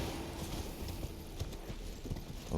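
Horse hooves gallop in the Elden Ring video game, a steady rolling clip-clop of hoofbeats over a dense low rumble of game ambience, moderately loud with no talk.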